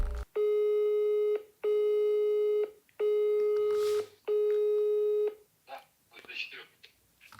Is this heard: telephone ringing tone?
yes